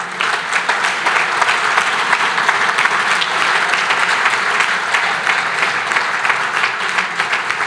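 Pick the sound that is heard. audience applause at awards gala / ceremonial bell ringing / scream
audience applause at awards gala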